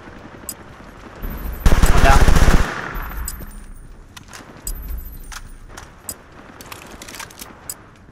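Machine-gun fire in Battlefield Bad Company 2 on the Laguna Alta map, a loud sustained burst of about a second near the start, followed by scattered fainter shots and clatter.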